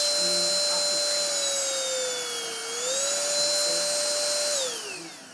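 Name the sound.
Prosenic P11 Ultra cordless vacuum cleaner running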